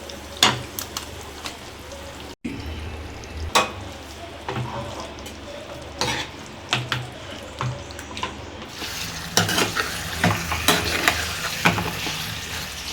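Washed mutton liver added to hot oil with ginger garlic paste, mint and coriander, giving a continuous wet sizzle under intermittent stirring scrapes that grows busier and louder toward the end.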